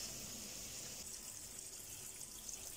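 Tap water runs steadily over cooked pasta being rinsed for a pasta salad, a soft continuous hiss of flowing water, fairly faint and alone.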